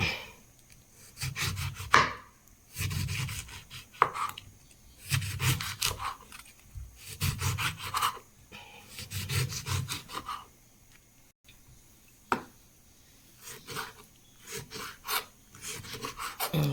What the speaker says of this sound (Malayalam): ഇനി നമുക്കിതിനൊന്ന് ചെറുതാക്കി അരിഞ്ഞെടുക്കാം ഇങ്ങനെ ഇങ്ങനെ അരിയാം